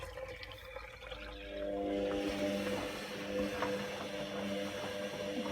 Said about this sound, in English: So it's filling for its second rinse now